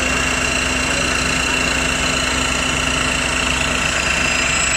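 A 12-volt, 5-ton electric car jack pumps as it lifts, its motor holding a steady, even drone with a constant mechanical hum and no pauses throughout.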